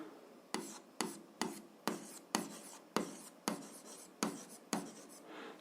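Pen strokes writing out an algebra solution by hand, a steady series of about ten short scratchy bursts with brief pauses between them, close and fairly quiet with no talking.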